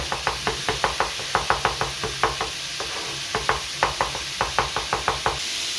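Rapid, steady knife taps on a cutting board, finely chopping garlic in quick rhythmic bursts with short pauses, over a low background hiss.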